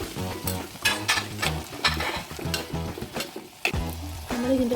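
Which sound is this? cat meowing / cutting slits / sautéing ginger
sautéing ginger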